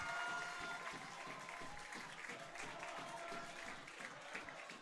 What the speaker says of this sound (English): She's getting a round of applause from her supporters